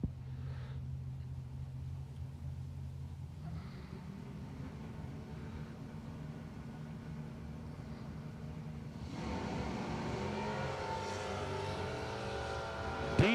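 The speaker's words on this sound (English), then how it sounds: "Jeff Deese, left lane, is wheel standing Pepsi Mountain Dew sponsored Malibu wagon" Drag racing at a radial event: engines rumble steadily, then a louder, harsher roar builds as the cars launch, the Pepsi Mountain Dew sponsored Malibu wagon wheel standing in the left lane, with a sharp burst right at the end.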